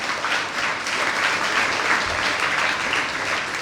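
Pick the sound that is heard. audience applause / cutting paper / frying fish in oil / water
audience applause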